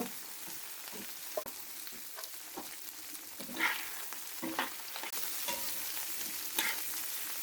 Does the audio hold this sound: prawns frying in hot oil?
yes